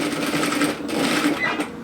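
Close, steady whir of a sewing machine running an edge stitch about an eighth of an inch from the edge of a bulky cardigan collar, continuous for the whole stretch.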